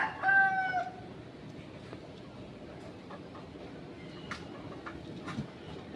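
A rooster crows once near the start, fairly close, over a steady late-afternoon outdoor background with faint scattered bird chirps afterward.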